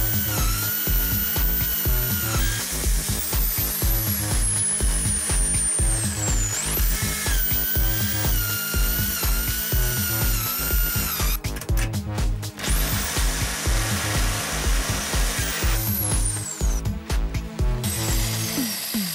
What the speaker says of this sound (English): We drill 2 holes with a diameter of 2 cm with a center in our marks.